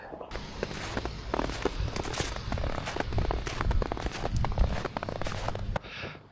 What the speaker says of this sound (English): that crunchy snow is so satisfying to walk on